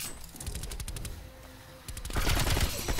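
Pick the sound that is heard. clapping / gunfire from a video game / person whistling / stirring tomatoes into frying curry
gunfire from a video game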